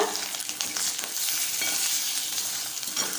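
Avalakki (beaten rice) and rava (semolina) roast together in a pan while being stirred, giving a steady, close, dry sizzling hiss with scraping stir strokes throughout and no voices.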